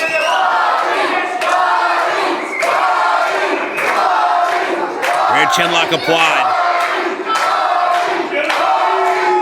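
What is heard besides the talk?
indie wrestling crowd cheering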